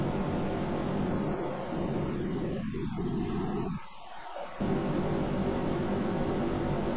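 RAPIER jet engine in air-breathing mode roaring down the runway on takeoff in Kerbal Space Program, a steady broadband roar that holds loud throughout with a brief dip near the middle.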